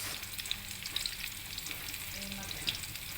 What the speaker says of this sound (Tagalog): Lagyan na natin ng sibuyas.